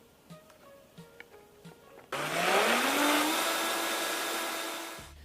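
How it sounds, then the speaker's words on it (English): A blender whirs to life mixing avocado brownie batter with vanilla extract, a loud steady motor roar that climbs in pitch as it spins up and holds, after a few soft kitchen clicks and taps. "So now I'm just going to blend everything together here"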